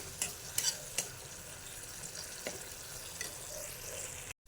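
Coriander, cumin, turmeric and salt sauté in a pan, giving a faint, close sizzling hiss punctuated by scattered scraping taps from stirring, cutting off abruptly at the end.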